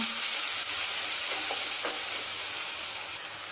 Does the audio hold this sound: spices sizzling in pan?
yes